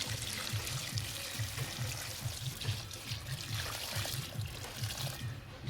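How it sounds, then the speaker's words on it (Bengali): Water trickles and pours steadily onto a potted dragon fruit plant in a rooftop terrace garden, a continuous close splashing stream with a low rhythmic pulsing underneath and no talking. "এখন এটাকে জল দেবো।"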